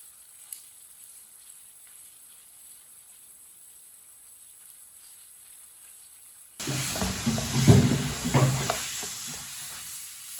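A spoon stirs besan and white sesame seeds in a hot pan over a fairly high flame, soft scraping and gentle sizzling starting abruptly after a quiet stretch and continuing close up.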